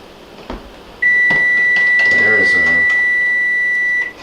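A kitchen timer set for boiled eggs lets out one loud continuous beep lasting about three seconds, close and piercing, with kitchen clatter and a voice underneath.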